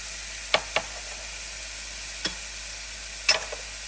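Ginger and peppers fry in a pan over a steady soft hiss, with a few sharp clicks and scrapes of a utensil stirring at uneven intervals, close, with no talk.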